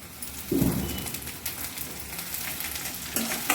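Onions and dried chillies frying in a pan for a mushroom pepper masala, a steady close sizzle with occasional spatula stirring and clinks.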